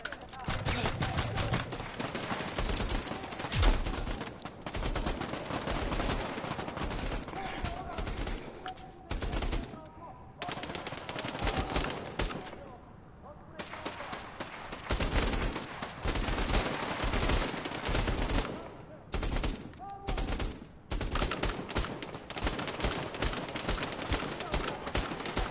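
Dense, rapid gunfire from a firefight in the PSVR shooter Bravo Team, shotgun blasts among bursts of shots, loud and nearly continuous with brief lulls.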